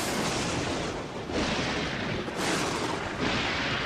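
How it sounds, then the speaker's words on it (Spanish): Thunder rolls through a rain-soaked forest in the Silent Hill Downpour video game. Loud, broad rumbling bursts swell and fade in several waves, with no voices over them. "hay trueno de verdad"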